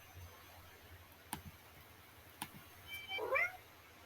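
A single short cat meow in a video game rises near the end after a quiet stretch with a couple of faint clicks, with no talking.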